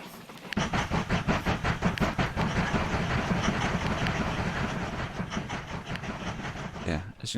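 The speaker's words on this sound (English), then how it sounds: "the train is now flying up the highway" A train in the railway-building game Mashinky runs along its tracks with a steady, rhythmic clatter and a continuous rolling rumble that holds at an even level.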